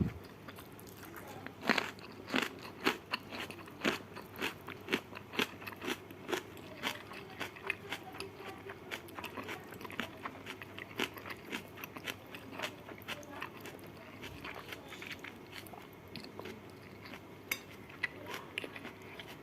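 Crunchy fried battered tempeh being eaten up close, with a long run of crisp bites and chewing crunches in an uneven rhythm, no talking.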